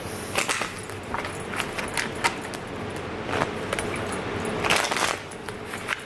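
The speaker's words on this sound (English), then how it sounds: "I hope you guys do not mind the shuffling." Tarot cards being shuffled by hand during a reading, a steady run of soft papery riffles and flicks with a few sharper snaps, close and fairly quiet, with no talking.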